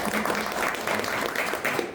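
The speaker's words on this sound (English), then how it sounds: "Can we give them a quick round of applause?" An audience gives a quick round of applause for conference panelists, a soft, dense patter of clapping that is fairly faint and brief.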